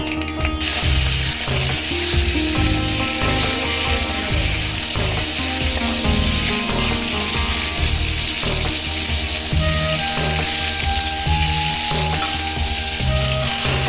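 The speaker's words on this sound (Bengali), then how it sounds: "দিয়া এই চিংড়ি মাছ দিয়ে ভাজবো, একটু ভাজা ভাজা করে" Loud, continuous frying sizzle of shrimp in mustard oil, with steady crackling and occasional scraping of a utensil against the pan.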